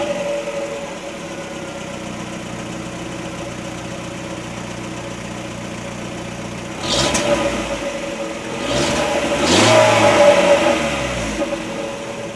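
A 2016 LADA Granta 1.6 8-valve engine idles steadily up close, then revs in a few rising bursts that swell louder before settling back toward idle, with no talking.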